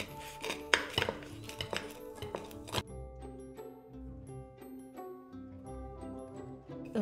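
A knife saws through an avocado sandwich on a board, with a burst of crisp crunching cuts and taps early on, then quieter scattered clicks under a musical background.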